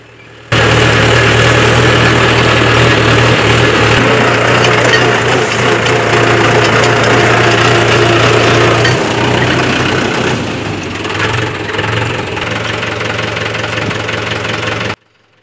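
A tractor pulling a small trolley made from a bullock cart: a steady, loud engine chugs with a low knocking idle and mechanical vibration, running continuously with no voices.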